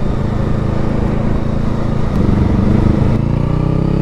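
A 2023 Honda Rebel 500 motorcycle exhaust, a loud, steady low engine rumble that holds close and even, swelling slightly near the end, with no talking.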